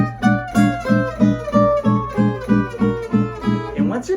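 Gypsy jazz guitar comping with steady all-downstroke rhythm, four even chord pulses per bar, each strum short and punchy with a percussive attack, played alone and close.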